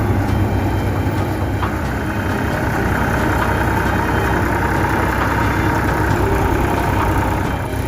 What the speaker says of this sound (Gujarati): આપણે હલર પણ ચાલુ કરી નાખ્યું છે